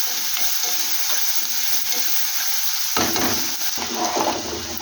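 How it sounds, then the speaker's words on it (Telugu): Green chilies and chopped onions sizzle and crackle steadily in a hot pan, with continuous frying hiss and occasional stirring scrapes partway through. "పచ్చిమిర్చి, ఆనియన్స్ ఫ్రై అవనివి"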